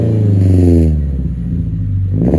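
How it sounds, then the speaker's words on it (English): A deep, throaty aftermarket exhaust on a 2016 Subaru Impreza 2.0i revs up and then settles back, loud and close, with a rumbling low drone and no talking. "Down here, can't forget, you got the exhaust system,"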